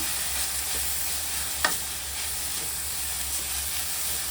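Spices roasting in a pan over medium heat for a village-style egg, chicken and avarekalu sambar, with a constant close sizzle and one sharp scrape of stirring partway through.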